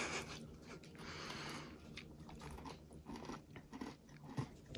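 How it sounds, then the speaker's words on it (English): Crunchy bites into a peanut butter cookie dipped in Cinnabon coconut maple syrup, with several close chewing crunches over a steady background hiss. "Listen to that crunch."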